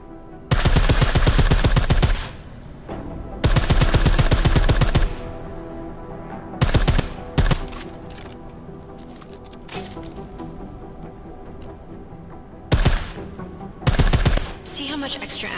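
Suppressed automatic gunfire in Deus Ex: Mankind Divided comes in several loud bursts of rapid shots lasting a second or two each, separated by quieter stretches with occasional single shots and impacts.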